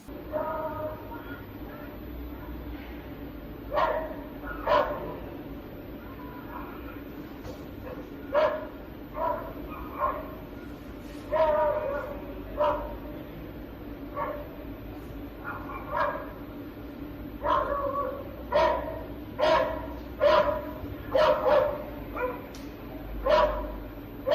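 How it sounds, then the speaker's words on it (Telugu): Stray dogs bark repeatedly in irregular bursts while attacking an elderly woman, some barks sharp and others softer, with a few quick yips clustered toward the end. "ఓ వృద్ధురాలిపై వీధి కుక్కలు దాడి చేశాయి"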